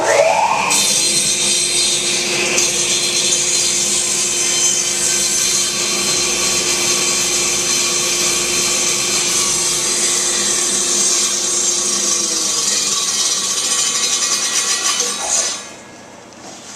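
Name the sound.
table saw cutting a board on a crosscut sled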